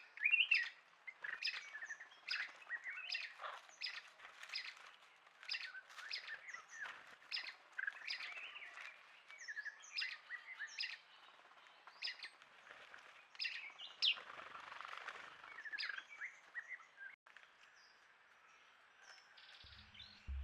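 Oriental magpie robin at a rocky pool on a hot day, giving a continuous stream of sweet, varied chirps and whistled phrases, fairly faint and steady throughout with no voices.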